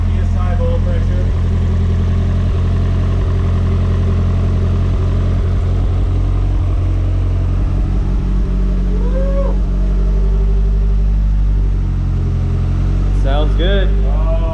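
Freshly forged Nissan Silvia engine idling on its first start, a loud steady low rumble with slight unevenness throughout, with people talking over it.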